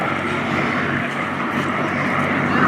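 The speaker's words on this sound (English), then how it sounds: "as we see these airplanes go by" Several P-51 Mustang warplanes flying past at an airshow, a steady, loud broadband engine drone that holds for the whole stretch and swells slightly toward the end, with no talk over it.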